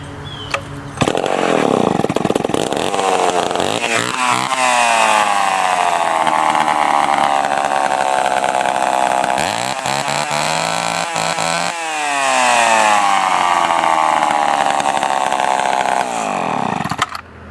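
Chainsaw engine firing up after carburetor treatment with Seafoam, loud and close, revving up and down in long sweeps then settling before cutting off, no talk.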